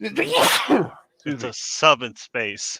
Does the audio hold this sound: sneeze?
yes